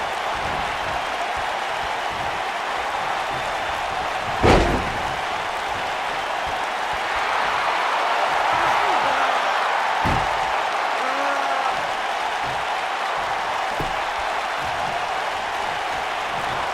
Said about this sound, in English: Sounds to me like this crowd's a little shocked to see him on the receiving end here.